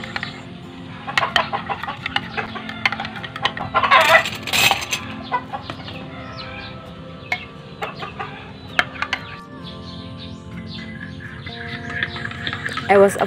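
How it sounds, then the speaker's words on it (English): Chickens cluck and chirp around a rural Philippine province home, several birds near and loud in irregular bursts over a steady background murmur. "I was apologize for a noise of chicken so much."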